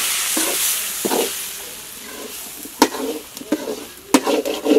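Masala for egg curry fries in a pan with a steady close sizzle, broken by several sharp scraping stirs of a spoon against the pan.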